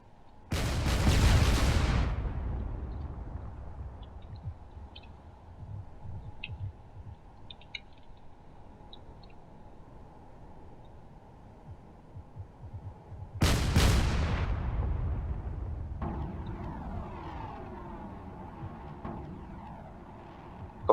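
Cannon and missile fire in the video game Drone Wars: two loud, booming blasts about thirteen seconds apart, each followed by a long decaying rumble, with faint scattered crackles in between.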